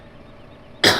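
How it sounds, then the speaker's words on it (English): A single sudden cough bursts out near the end after a quiet stretch, close and fairly loud. "I think I'm going to have a little bit of a cough"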